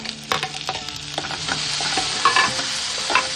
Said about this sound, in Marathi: बारीक चिरलेला छोटा कांदा व्यवस्थित परतून घ्यायचं